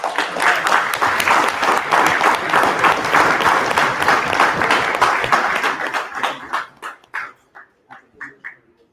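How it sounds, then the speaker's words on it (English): An audience claps steadily and densely, then thins out to a handful of separate claps that fade away near the end. "There you go, clap it up for him"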